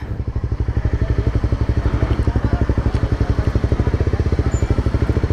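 Honda CBR300R motorcycle engine idling nearby during flooding, a loud, fast, even pulsing thrum that runs steadily throughout.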